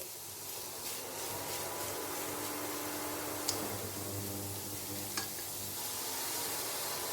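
Leftover rice with paneer being stir-fried in a pan, a faint continuous sizzle with soft rubbing of a spatula and a couple of small ticks, close and without voices.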